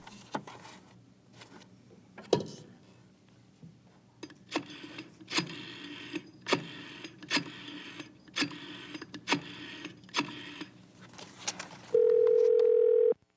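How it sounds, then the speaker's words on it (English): A telephone in the game The Beast Within: A Gabriel Knight Mystery, with a run of regular clicks or pulses, and then a steady dial tone near the end. "Hey, check it out, we can use the phone."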